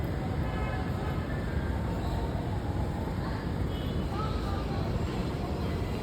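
Steady, loud low rumble and rattling of a train in motion toward Divisoria, Manila, continuous throughout with faint background voices.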